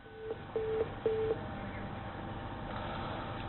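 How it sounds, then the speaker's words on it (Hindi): A telephone line sounds three short beeps in a row after a call drops during a televised phone-in. Each tone lasts about a quarter second, and then the line falls to a low hiss. "लगता है स्टोफर जी से संपर्क टूट गया है।"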